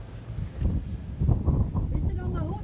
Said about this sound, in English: The wind stopped. Nope, no it didn't.